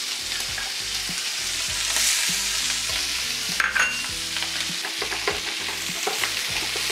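Sliced onion added to shrimp frying in a pan with green chili, a moderate sizzle with occasional clinks and scrapes of stirring, heard alone under light background music.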